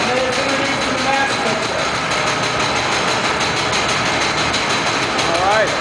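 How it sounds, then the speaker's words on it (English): A grain mill runs in a brewery mill room, a loud, constant mechanical drone with rattling texture filling the space while a person speaks over it. "Right here is our mill room."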